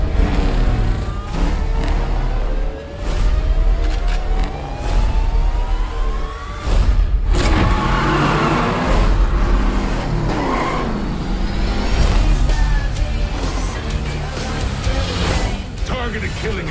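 Race cars from the 2018 film Death Race 4 roar and rev in a loud trailer mix, engine pitch rising and sweeping past with whooshes, layered under music and occasional dialogue.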